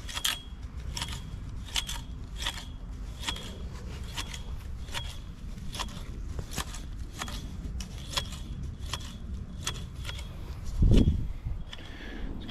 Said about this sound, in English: He's hand edging the lawn.